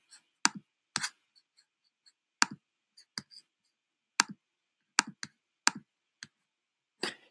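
Sharp, isolated computer mouse clicks, about a dozen spaced irregularly over several seconds, close and crisp against near silence.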